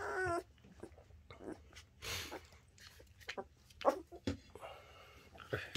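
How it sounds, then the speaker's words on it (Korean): Two-week-old border collie puppies let out scattered high yips and small barks amid whimpers and rustling, close by and faint, in short irregular bursts. "이제 짖기도 짖고 막 그래요 애들이."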